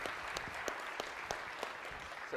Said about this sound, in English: Seriously, if you got them all right, seriously, you should be applauded.